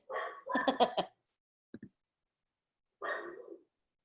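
A dog indoors giving a few short, muffled barks in quick bursts, then a pause and another bark, heard alone and fairly faint.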